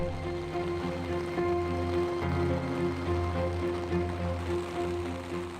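Heavy rain pours steadily in a Seoul street during a flood-level downpour, a dense, even wash of water hiss and patter with no breaks, moderately loud and all around.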